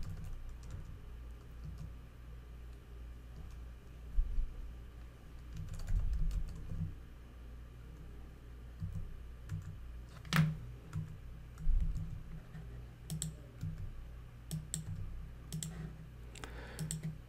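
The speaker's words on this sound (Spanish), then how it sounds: "Voy a teclear un par de artículos" Someone types on a computer keyboard in quiet, scattered bursts of soft key clicks with a few louder taps, over a low steady hum, close by and without speech.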